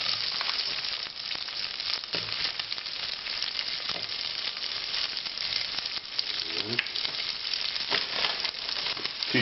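Sliced fennel sizzles and fries steadily in about 20 grams of melted butter in a pan, with occasional crackles and pops, close and continuous throughout.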